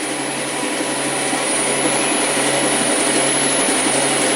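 A PM727MXL milling machine spindle spins steadily, producing a loud, even broadband whir with a constant high whine and no change in pitch throughout.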